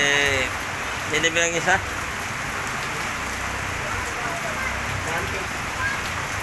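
Continuous heavy typhoon rain, steady dense hiss pouring onto surfaces throughout, loud and unbroken, with a person speaking briefly near the start over the downpour.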